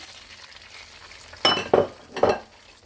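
Semolina going into desi ghee with cardamom in a pan for suji halwa: after a quiet start, three short sizzling bursts as it is stirred, close and moderately loud.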